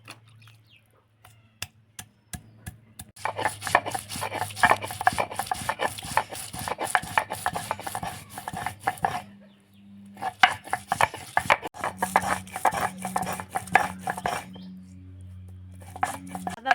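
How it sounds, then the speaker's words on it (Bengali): Ginger and garlic being ground into a paste by hand, a continuous scraping, rubbing and pounding that is close and fairly loud, broken by two short pauses, with a low steady hum underneath. "তখন আমি আদা রসুন বেটে নেবো।"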